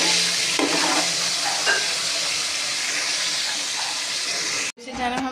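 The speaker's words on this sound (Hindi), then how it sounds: "यहाँ पे हमने पतीला ले लिया और उसमें हमने प्याज डाल दिए, घी डाल दिया, हमने डाल दिया है कड़ी पत्ता और गरम मसाला।" Onions sizzle and fry in ghee with curry leaves and garam masala in a pot for beef yakhni pulao, a steady close hiss with some stirring, cutting off briefly near the end before more clatter.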